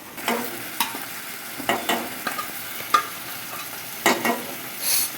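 Jackfruit seeds cook in a pan over a soft sizzle while a spoon stirs them in irregular scraping strokes, each stroke a sharp, close scrape, with no talking.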